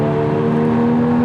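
A Porsche Boxster S accelerates on the Nordschleife, its engine note a loud, steady drone with strong tonal harmonics, close and constant for the whole moment.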